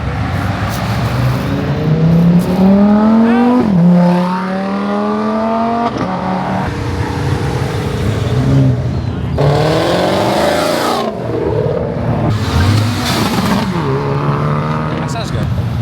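A car engine revs repeatedly at a late-night car meet, with sharp rising pulls and drops and some cars passing close by, while people talk nearby.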